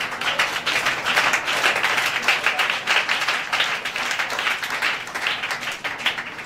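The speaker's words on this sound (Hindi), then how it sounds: "ताली बजाइए ना।" Congregation clapping at a church gathering, dense steady applause from many hands that continues throughout at a moderate distance.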